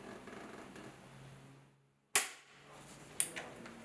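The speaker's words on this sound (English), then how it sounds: "The torque wrench is preset to the torque value needed, so it will give a loud pop" A torque wrench gives a sharp, loud pop on reaching its preset torque, cutting through a quiet background, followed by a fainter second click a second later.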